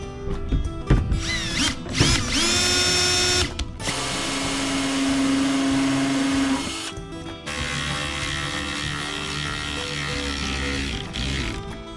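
A power drill drives stainless steel countersunk screws into a boat console, with loud whirring runs that rise in pitch and then settle, broken by brief stops and a steady grinding drone.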